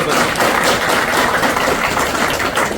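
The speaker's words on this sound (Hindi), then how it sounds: "डॉक्टर साहब के लिए तो बहुत बहुत तालियां मेरी तरफ से" Applause for a doctor at a Tohana hospital event, celebrating twins who survived: dense, steady clapping from a gathered audience filling the whole stretch at an even level with no pauses.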